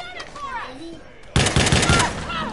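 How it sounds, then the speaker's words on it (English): A shotgun fires in a video game: a loud, close burst of several rapid blasts starts partway through, following a stretch of quieter game sounds. "My shotgun, give me my shotty."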